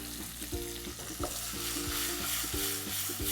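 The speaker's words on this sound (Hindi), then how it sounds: "जीरे को ऐसे चटकना चाहिए। मसालों को अच्छे से छौंक लगाइए" Cloves, black pepper and cumin crackle and sizzle in hot oil with a steady frying hiss, while a spoon stirs them in a few soft scrapes close by.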